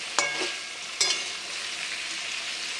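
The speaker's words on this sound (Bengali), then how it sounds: "আর এই দেখো ফুলকপি আলু আবার ভাজা করছি।" Cauliflower and potato frying in oil in a pan with egg, a steady close sizzle broken by two sharp stirring clacks early on.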